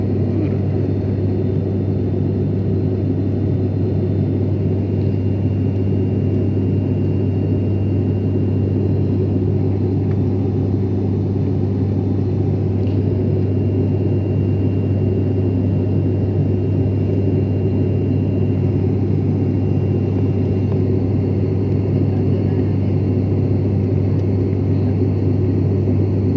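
Airplane cabin noise in flight, heard from inside a passenger aircraft: a steady, loud low engine drone and broadband rumble that holds unchanged throughout, with no voices.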